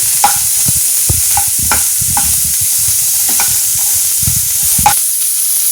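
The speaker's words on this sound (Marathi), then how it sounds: "हे कांदे आपल्याला थोडे परतून घ्यायचे तेलामध्ये" Chopped onions sautéing in a spoonful of oil, a steady close sizzle broken by repeated scraping and stirring strokes about once a second, ending with a brief quieter stretch.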